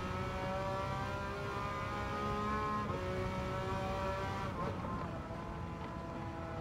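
Mazda RX-7 rotary engine revving in a racing video game, a sustained droning engine note with rising and falling harmonic bands, steady and fairly loud, shifting pitch near the end.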